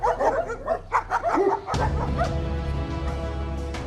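Street dogs bark in a quick, loud cluster of yips and barks up close for about two seconds, then a steady low rumbling roar takes over.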